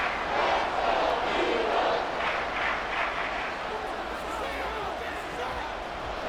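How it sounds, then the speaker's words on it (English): Madden 24 football game stadium crowd roars loudly and continuously, a broad wash of cheering that swells early and eases slightly, with faint commentary underneath. "This crowd turning up the decibel level."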